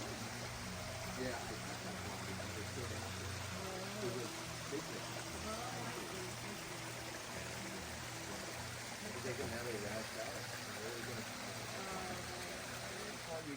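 A natural creek flows beneath a bridge in a Japanese garden, giving a steady, soft rush of running water throughout with voices faintly mixed in.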